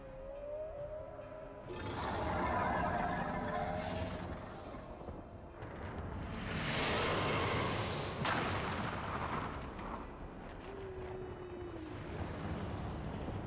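Heavy cannon fire in a Final Fantasy XIV battle scene, a loud rumbling barrage of booming blasts that swells twice to a sustained roar, with sharp cracks and brief whistling tones over a dense orchestral-like backdrop.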